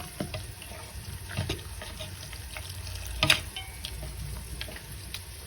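Water poured into an egg batter mixture in a home kitchen, a steady soft trickling wash running throughout with a brief louder splash partway, no talking.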